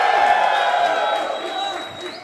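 Crowd at a live founders event for a gaming company in LA, cheering and whooping steadily for about two seconds, fairly loud and close, fading slightly toward the end.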